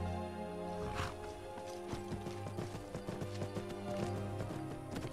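Rapid clip-clop of hooves galloping at a steady pace in Skyrim, with a soft music bed beneath and no talking.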